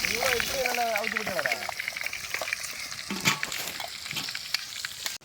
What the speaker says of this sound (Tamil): இப்போ அதுக்கு கூட இஞ்சி பூண்டு பேஸ்ட்டை போட்டு நல்லா வதக்கி எடுக்கணும்